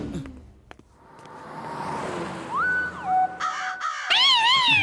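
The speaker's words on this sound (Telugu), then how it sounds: "కాకులు మమ్మల్ని వెంబడిస్తున్నాయి, కాపాడండి" Cartoon crows caw in a Motu Patlu episode, loud rising and falling calls that build into a harsh, repeated chorus after a rushing whoosh and a brief sharp hit.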